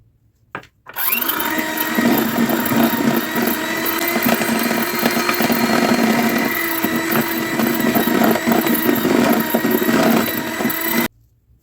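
An electric mixer beats eggs and vanilla into petit four batter. A loud, steady motor whir runs close and without a break for about ten seconds, then stops abruptly.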